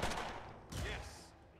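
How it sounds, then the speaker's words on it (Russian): Gunfire in the video game Mutant Year Zero: Road to Eden, with a pistol and an assault rifle, comes as two loud bursts of shots close together, the second one sharper and ringing. "Магнус, прикрывая напарника, добивает одного из пистолета, Бормин выстрелом из калашмата скидывает вожака с крыши"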